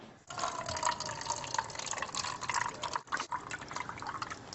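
A steady stream of strongly acidic byproduct water pours from a water ionizer and splashes into a container, close and fairly quiet, with a couple of brief pauses.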